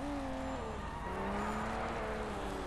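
A car drives in the video game Sleeping Dogs, its engine holding a steady, loud drone whose pitch dips and climbs as it shifts, continuous and unbroken with no voices.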